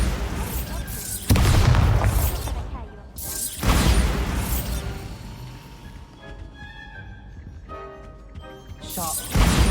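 A Bombarda blasting spell goes off in Hogwarts Legacy, booming loudly several times with heavy crashing bursts and debris, fading into scattered clatter and ringing tones before another blast at the end.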